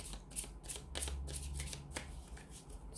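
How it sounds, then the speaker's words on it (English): A deck of angel answer oracle cards is shuffled by hand, giving a run of quick, crisp riffling bursts close to the mic with a low hum underneath. "I'm just going to give these angel answers a shuffle"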